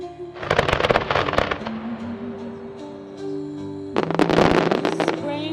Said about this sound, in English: this time illuminated by white strobe fireworks.